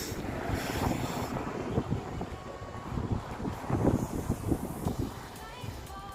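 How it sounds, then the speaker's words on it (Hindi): Cold wind gusts across the microphone at the highest point of the Srinagar–Leh road, a high mountain pass in Ladakh, a steady loud rumbling roar with stronger bursts toward the end. "बहुत ठंडी हवा चल रही है।"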